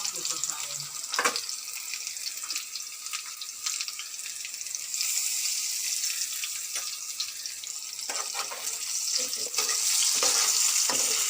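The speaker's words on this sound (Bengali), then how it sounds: "আলুগুলো ভেজে নিচ্ছি।" Potatoes sizzling as they fry in oil for a rohu fish curry, a steady close crackling hiss with occasional stirring and clinks of a utensil, no talk.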